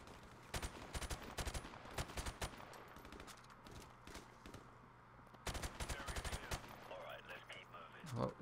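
Bursts of automatic gunfire crackle in a Modern Warfare Remastered campaign firefight, rapid volleys in two main clusters with a lull between, loud and close, with faint voices underneath.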